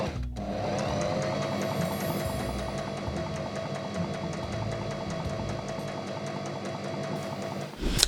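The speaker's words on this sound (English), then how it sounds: "now I think we're ready to take it to our sewing machine" A sewing machine stitches a hem on a thrifted garment, a steady fast mechanical whirring and clatter running continuously at moderate level, then stopping with a few louder clicks at the end.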